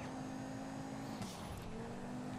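An Albany Alpha sports car drives in GTA 5, a steady engine hum with a slight pitch shift midway as it changes speed, heard alone and fairly quiet.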